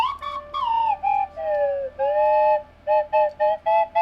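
Two slide whistles play together in a simple two-note duophonic chord: sustained sliding tones and swoops give way to a run of short, evenly spaced blown notes, close and clear with no talking.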